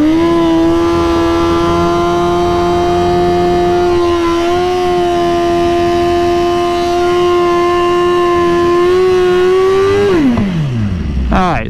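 Kawasaki Ninja 250 ridden by a twelve-year-old at a track day, revving hard at high pitch as it accelerates down the strip, engine note climbing steadily for about ten seconds before dropping off sharply.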